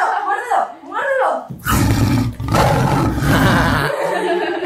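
A leopard roar sound effect erupts in long, loud, rasping bursts after a short stretch of excited voices, the growling holding for several seconds before easing off.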